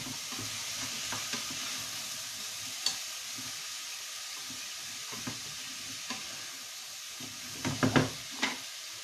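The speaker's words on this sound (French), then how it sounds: "On n'oublie pas de remuer ces courgettes pour qu'elles ne crament pas" Courgettes frying in a pan, a soft continuous sizzle with quiet stirring and a few scattered taps and clinks of the spoon against the pan, louder knocks clustering near the end, no voices.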